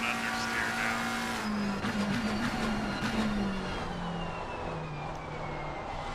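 Race car engine in Assetto Corsa Competizione, a steady droning whine that holds its pitch before easing slightly lower, running continuously and fairly loud with no clear talk over it.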